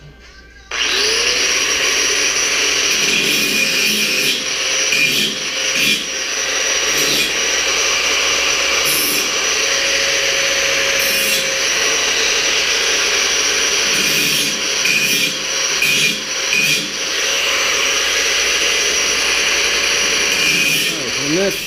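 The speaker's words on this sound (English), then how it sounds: "I'm going to use the angle grinder. I'm just going to take some edges off these guys that I just cut" An angle grinder deburrs sharp edges on freshly cut metal pieces, a loud continuous high whine that runs steadily for about twenty seconds with slight dips as it bites and lifts off the work.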